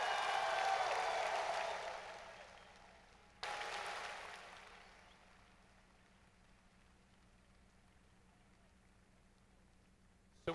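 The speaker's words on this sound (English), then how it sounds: "One more time, a thunderous round of applause," Applause for mentors at a team awards gathering swells from a crowd, a dense patter of clapping that drops off, surges briefly again, then fades into quiet room hum.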